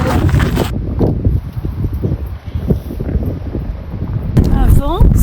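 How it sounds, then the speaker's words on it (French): Strong wind in the French countryside buffets the microphone in a steady, roaring rush, with a brief gap of calmer noise before gusts return near the end. "c'est un vent très très très fort"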